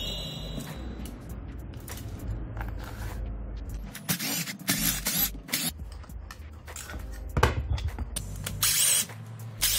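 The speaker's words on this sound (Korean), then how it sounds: "일단 보여드리기 위해서는 위에 헤드를 분해를 해야 되겠죠" An electric motor head being taken apart with tools, giving close, uneven bursts of power-tool whirring, scraping and metallic clicks with pauses between them.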